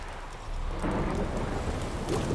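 A low rumble of thunder in the game The Witcher 3: Wild Hunt swells and rolls on beneath steady rain-like hiss, growing louder after a quieter start.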